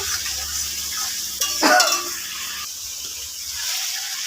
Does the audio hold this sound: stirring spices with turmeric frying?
yes